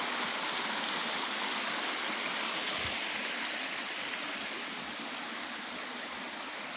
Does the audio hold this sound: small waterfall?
yes